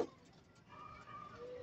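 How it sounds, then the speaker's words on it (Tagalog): Released homing pigeons arriving back at their loft give soft, low cooing, faint and brief against quiet surroundings. "Ayan na mga kaibon."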